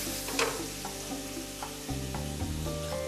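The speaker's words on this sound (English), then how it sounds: "Chef is going to flambe it" Salmon and shrimp frying with brandy in a pan as it is flambéed, a steady loud sizzle with a burst of flaring hiss and a few soft clinks of the pan.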